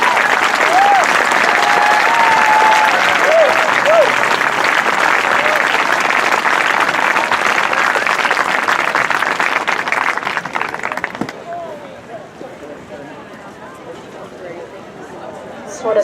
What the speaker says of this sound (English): big round of applause for her